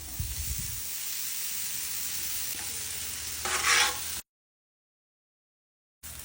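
Sausage frying on a grill beside breakfast potatoes gives a steady soft sizzle, swelling into a brief hissing burst, then cutting to silence for about two seconds before the sizzle resumes; no talking.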